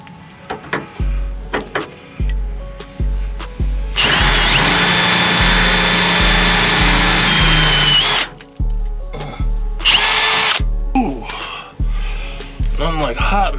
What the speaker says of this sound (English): I can chip the paint exactly where this makes contact and start to drill my hole